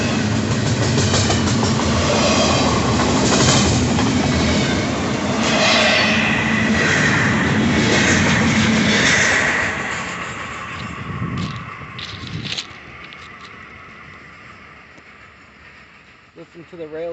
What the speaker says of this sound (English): Listen to the rails sing.